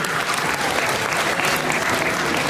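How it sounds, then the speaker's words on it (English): An audience applauding the children of a Siva Moana dance recital, a thick continuous roar of clapping that stays loud and even throughout. "We can give them a round of applause"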